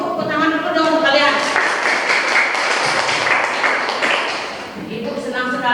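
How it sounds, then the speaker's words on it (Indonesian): Students clap their hands together in a classroom, a dense, steady wash of applause filling most of the stretch, with a teacher's voice heard at the start and end. "tepuk tangan dulu dong kalian"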